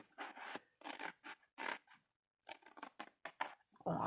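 Scissors snip through paper or cardstock for a scrapbooking ribbon box, cutting up to a middle fold. Several rasping cuts come in close succession, pause, then resume in quicker strokes. No one speaks.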